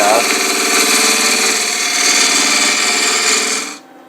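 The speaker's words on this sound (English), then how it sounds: "I'm just going to take a little bit off using the edge of this 1/2 inch spindle" Palo Santo wood spinning on a wood lathe while a half-inch spindle gouge cuts it, giving a loud, steady scraping whir close by that runs for a few seconds and then stops abruptly.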